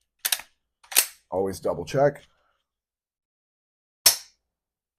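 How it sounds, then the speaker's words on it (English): Hammer of a Henry H001 rifle falls and fires a quiet Aguila 20-grain round: a single sharp, short click near the end, alone after speech, with a couple of brief clicks before the talk. "That sound right there of the hammer falling is pretty much the only sound you hear"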